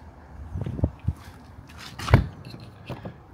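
Large exterior door of a Rollerteam Zefiro Sport Edition 2022 motorhome being moved and shut, a series of soft knocks and shuffles building to one firm thud, then a few lighter clicks.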